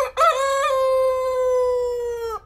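A Silkie rooster, an ornamental chicken breed, crows once in a single long, loud, close call of about two seconds, with no voices heard.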